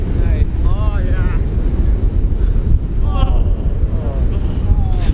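Strong wind buffets the microphone on open water during a paddling trip, a constant loud rumble with voices talking faintly over it.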